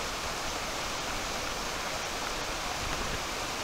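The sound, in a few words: river flowing in a canyon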